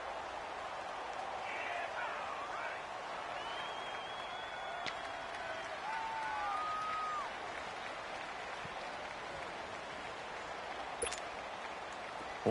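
A stadium crowd in an American football video game roars steadily and broadly throughout, swelling slightly at points as fans get into a big third-down play.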